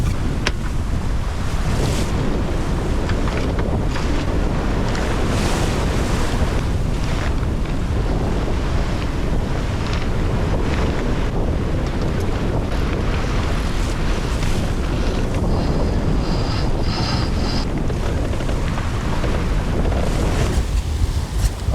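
Strong gusting wind of about 30 knots roars over a sailboat running downwind with three reefs in the mainsail, steady ocean waves and surf rushing beneath, with heavy wind buffeting on the microphone throughout and no talk.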